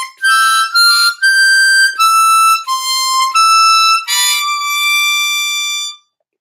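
Harmonica practice phrase of seven or eight bright reedy notes, some held longer, played close and loud without talking before stopping abruptly.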